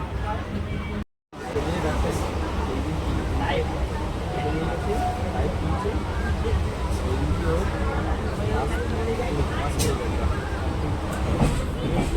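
A crowded Sealdah–Baruipur local train pulls out of Mallikpur station, a loud, continuous rumble of wheels and carriage noise with a babble of passenger voices mixed in throughout.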